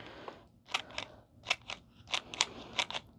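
Scissors snipping through recycled material being cut apart to build a cat scratcher, about eight crisp close cuts in uneven clusters with brief pauses between, no talking.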